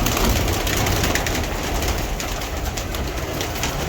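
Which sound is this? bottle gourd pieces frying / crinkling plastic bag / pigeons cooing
pigeons cooing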